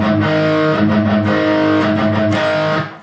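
Distorted electric guitar plays a power metal riff, sustained chords mixed with short palm-muted notes in a driving repeated pattern, loud and close with nobody speaking, ending in a brief ring-out.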